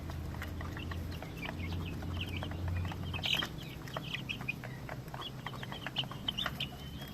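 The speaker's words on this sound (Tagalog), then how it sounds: "Ito pala yung first batch natin na sisiw katropa." Many chicks and young chickens peep and cluck in a busy, continuous chorus of short high calls, close by and soft, over a low background hum.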